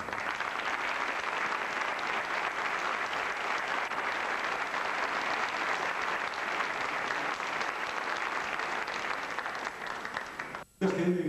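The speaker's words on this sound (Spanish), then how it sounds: "Y ahora le dedicamos el gran aplauso de la noche." Theatre audience at the Teatro Campoamor in Oviedo applauding a young bagpiper, a dense, steady wash of clapping that holds for about ten seconds before dropping out briefly, followed by a voice speaking at the end.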